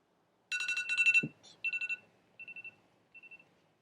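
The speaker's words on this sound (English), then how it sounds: "I'm just turning my alarm off, otherwise it's going to go off again." A phone alarm goes off in a series of high electronic beeping bursts, loud at first, then shorter and fainter pulses trailing away as it is switched off, with no talk over it.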